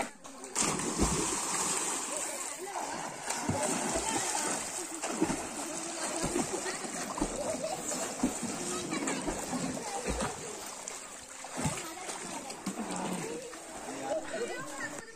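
Water splashing and sloshing in a swimming pool as someone climbs in, repeated uneven splashes at moderate level under ongoing talk from people nearby.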